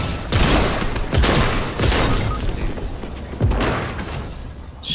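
Loud bursts of gunfire from enemy players in Fortnite, several sharp shots landing in quick succession at close range with brief gaps between the volleys.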